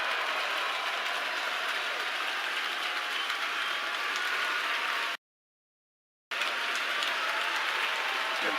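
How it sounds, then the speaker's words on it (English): A crowd cheers and applauds at a SpaceX Falcon Heavy launch carrying Arabsat, producing a steady loud roar of voices and clapping that breaks off for a second of silence and then resumes. "Again, over the cheering,"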